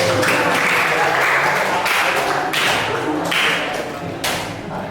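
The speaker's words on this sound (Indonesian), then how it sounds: "tepuk tangan buat kita semua" Applause from a classroom group, bursts of close, loud clapping in uneven waves that fade toward the end, with some murmured voices beneath.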